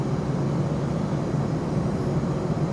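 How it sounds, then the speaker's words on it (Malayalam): Passenger airliner taxiing toward Terminal 4 at an airport in Mexico, heard as a steady, low continuous engine drone with no break or change in level. "ടെർമിനൽ 4ലേക്കാണ് ഞങ്ങളുടെ വിമാനം അടുക്കുന്നത്"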